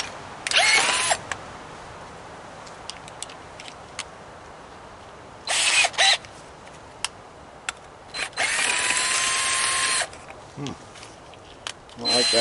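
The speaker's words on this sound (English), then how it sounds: "I don't like that drill." A power drill whirs in several short, sharp bursts while a Dewalt air compressor is taken apart for scrap metal. Quiet clicks and handling noises fill the pauses between the bursts.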